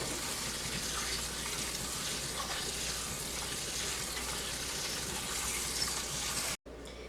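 Salted vegetables are rinsed under a running kitchen tap, a steady close rush of water that stops abruptly near the end and then resumes briefly, with no talking.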